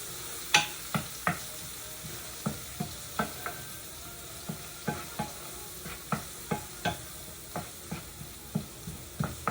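Food seasoned with chili powder and cumin is tossed in a pan: a steady run of short, sharp scraping and clattering strokes at a quick, uneven rhythm over a faint sizzle, close and moderately loud, with no voices.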